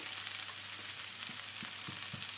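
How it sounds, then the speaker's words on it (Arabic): Onions sizzle steadily in a pan with curry powder and turmeric, a close, continuous frying hiss with faint stirring scrapes and no talk. "هنا نشوح البصل الى ان يشقر"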